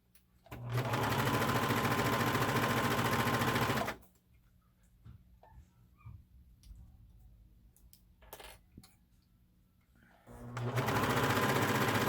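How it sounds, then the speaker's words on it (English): Sewing machine stitching around fabric bear arm pieces: a loud, steady run of fast mechanical whirring, a pause filled with small clicks and fabric handling, then a second steady burst of stitching. "I'm going to go ahead and sew around the outside of it before we move on to working on the legs"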